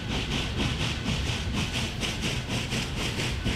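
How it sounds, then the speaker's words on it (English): Steam locomotive laboring under load in the off-road driving game Snowrunner, a loud, dense rhythmic chuffing with regular exhaust beats about four per second over rumbling rail noise, no voices. "So this engine is under load right now, which is why it sounds like that."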